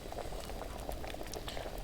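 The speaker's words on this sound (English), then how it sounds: "You hear those bubbles going." Bubbling from an alchemy pot in a medieval role-playing game, a steady, dense simmer of small popping bubbles that runs unbroken and fairly close throughout.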